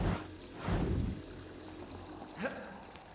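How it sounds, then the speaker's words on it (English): Water splashing and pouring from a fountain in the Prince of Persia: The Sands of Time video game, a soft running wash with a stronger gush early on and a brief splash near the end. "Why would there be a water fountain here?"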